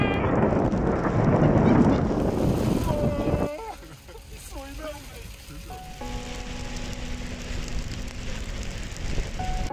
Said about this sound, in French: un orage éclate